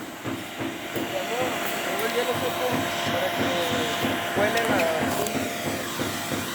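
An industrial vacuum cleans dry debris from the floor slab formwork before a concrete pour, a continuous broadband hiss and suction roar with clattering bits under it, heard close up on a building site.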